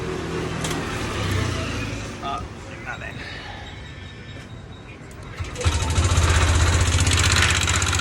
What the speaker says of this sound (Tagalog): maingay po ito may lumalagitik sa makina